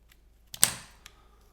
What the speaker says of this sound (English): So now we're just gonna go ahead and cut all these straight lines.